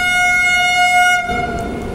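Tirupati Vande Bharat train crossing: a loud, steady horn-like tone holds for over a second, then gives way to a broad rushing rumble as the train passes close by.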